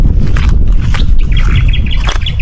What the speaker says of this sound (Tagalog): Oh, ang ganda ng mga ibon.